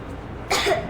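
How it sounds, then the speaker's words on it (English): A single short cough from a young girl in the video game Metro Exodus, a brief breathy burst over quiet ambient background. "I have this cough."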